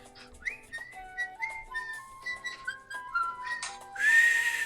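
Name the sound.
person trying to whistle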